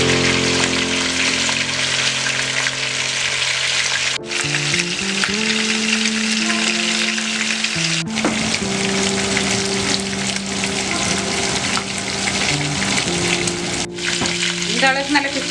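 Oil sizzles steadily as rice for Arabian kabsa is fried until lightly browned, a dense continuous hiss throughout with tonal music-like tones running underneath.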